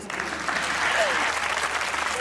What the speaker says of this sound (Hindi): भाई वाह, ताली होनी चाहिए